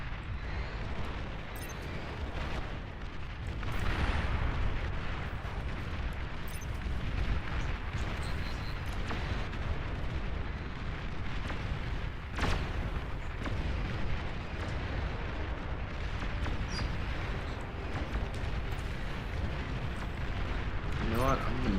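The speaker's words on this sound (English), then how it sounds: "Oh, they got a bunch of artillery." Artillery fire in the strategy game Beyond All Reason, a dense, continuous barrage of low booms and bursts running throughout at steady loudness, with a voice talking over it.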